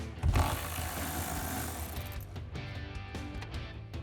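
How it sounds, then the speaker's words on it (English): A T50 Torx socket on a ratchet turns out a bolt tucked in a corner behind the roll bar of a 2021-2024 Ford Bronco, producing steady close, quiet mechanical clicking with a brief louder knock at the start. "So same T50 Torx socket to remove it."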